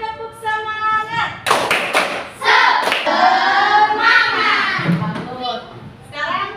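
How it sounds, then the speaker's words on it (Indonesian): A classroom of children repeats the 'tepuk semangat' clap routine: several loud, close bursts of group clapping and tapping interleaved with chanted young voices. "Sekali lagi tepuk semangat."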